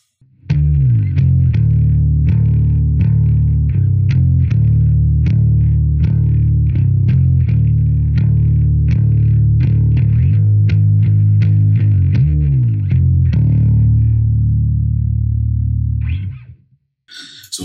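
A bass guitar in drop C tuning plays a riff: heavy, distorted low notes in a steady, slow rhythm with slides, loud and alone for about sixteen seconds.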